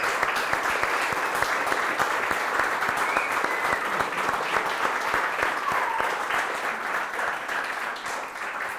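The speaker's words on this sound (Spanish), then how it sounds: "continuado aplauso para la gente que trabaja acá y nos ayuda" Sustained, dense clapping from a crowd at a game jam venue, steady and fairly close for several seconds before easing slightly toward the end.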